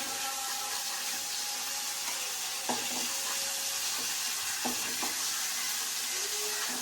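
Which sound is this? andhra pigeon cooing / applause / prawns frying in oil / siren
prawns frying in oil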